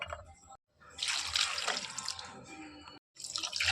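Soaked chickpeas and millet are swished and rinsed in a bowl of water, a close splashing and trickling that runs in two stretches with a brief silent gap between them.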